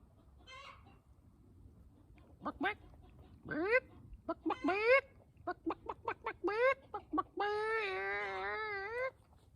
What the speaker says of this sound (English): some crazy chicken just started clucking